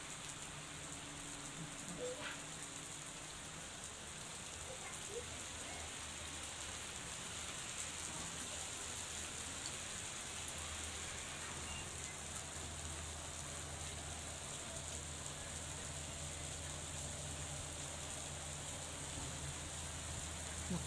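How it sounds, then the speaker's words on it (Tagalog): Spring hail falls steadily outdoors in New Zealand, a dense, continuous hiss and patter on surfaces that stays even and moderately loud for about twenty seconds with no voices. "Kasi, lumakas na naman yung hail."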